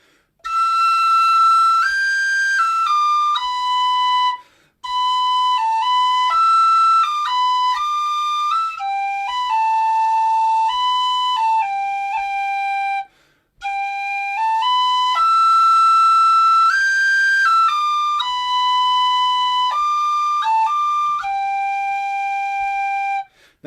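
A clear, high tin whistle plays a melodic tune in strict tempo in two long phrases with a short pause between them, steady and close.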